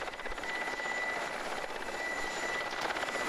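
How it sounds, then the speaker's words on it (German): In a video game, a helicopter flies low over a bridge past a lighthouse, its rotor giving a steady, fairly faint whirring drone with a thin whine on top, with no talk. "Das ist jetzt der Hubschrauber, der also hier über die Brücke fliegt"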